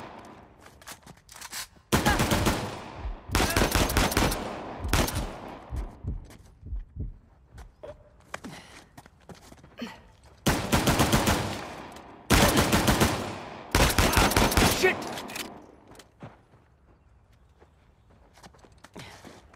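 Gunfire in the video game Uncharted: The Lost Legacy, loud sustained bursts of automatic fire alternating with scattered single shots and quieter gaps over a long stretch.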